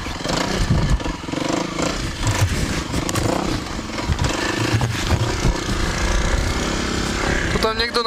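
Kawasaki KLX 300R dirt bike ridden off-road on rough terrain, engine droning and revving steadily throughout with wind and rattling clatter close to the rider, no clear talk.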